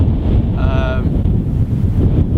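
Strong outdoor wind buffets the microphone in a continuous low rumble, with a brief whistling tone partway through.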